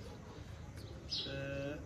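Pigeons coo softly in the background, a brief low murmur under someone speaking nearby, with a short faint chirp in between.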